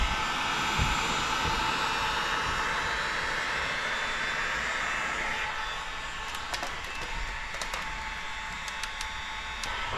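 A heat gun blows with a steady, loud whooshing roar while warming paint protection film on a car, with a few light taps and rustles later and no talk.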